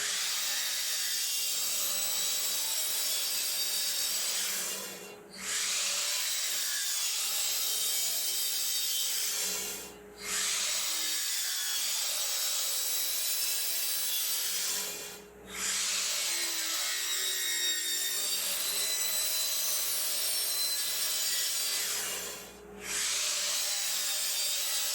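Plywood boards for a shoe bench are cut with a power saw in four long rasping passes, each a few seconds apart, with short pauses between cuts and no talking.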